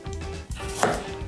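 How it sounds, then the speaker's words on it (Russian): A knife cuts a quartered sweet apple into strips on a cutting board, giving a brief close chop with a crisp crunch near the end, with no talk. "теперь нарезаю просто полосками"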